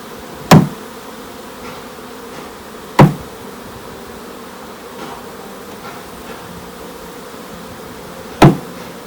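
Honeybees buzz steadily in a low, close drone while being installed in a hive, broken by three sharp knocks spaced a few seconds apart as the bees are bumped off onto a pallet.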